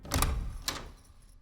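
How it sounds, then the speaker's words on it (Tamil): A door swings open indoors, giving a low thud and creak near the start and a second, sharper click about half a second later, then quiet room tone. "கதவை திறந்துக்கிட்டு உள்ள வந்திருக்க?"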